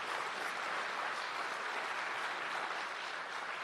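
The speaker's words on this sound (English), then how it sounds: "you have to give him a round of applause for that" Sustained audience applause at a national AI lab signing ceremony in Jamaica, a dense, steady wash of many hands clapping that holds at an even level throughout with no speech over it.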